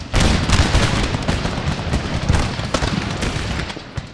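Infantry musket volleys crackle in Darthmod Empire, a ragged burst of many overlapping shots that booms loud and close, then rolls on in scattered follow-up fire for several seconds.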